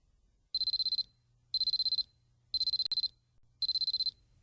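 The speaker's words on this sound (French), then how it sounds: "Quand le réveil sonne à 7 heures, Cécile ouvre difficilement les yeux." An alarm clock rings at seven in the morning, sounding four evenly spaced bursts of rapid, high-pitched electronic beeps, each about half a second long and loud up close.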